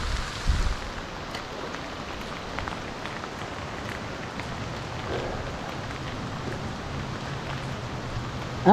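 Steady rain patters outdoors during bass fishing, a dense, even hiss of drops across the whole stretch with a brief low thump near the start.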